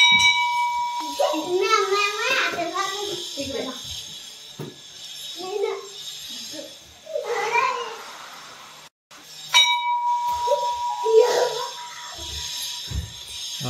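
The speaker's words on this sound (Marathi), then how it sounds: "हे बस घंटी वाजव ना." A temple bell at a Mahadev shrine is struck about midway and rings on with a bright lingering tone, mostly under a child's and an adult's talking.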